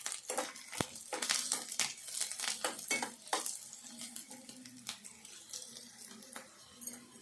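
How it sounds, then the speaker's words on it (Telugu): Onion pieces fry in a pan while a utensil stirs them, giving repeated scraping clinks and scrapes over a soft, steady sizzle, close and fairly quiet. "ఇట్లా వేగితే సరిపోతాయి ఉల్లిగడ్డ ముక్కలన్నీ."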